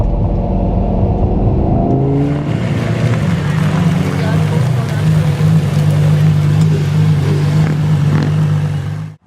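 A 2006 Lamborghini Gallardo sports car, finished in orange, roars loudly up close, its engine tone climbing as it revs and then settling into a steady, deep drone, with talk faintly mixed in.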